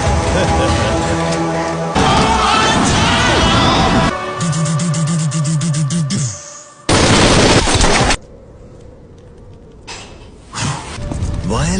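Bursts of loud gunfire, sustained volleys with blasts and crashes, cutting in and out with gaps of quieter ambience between them.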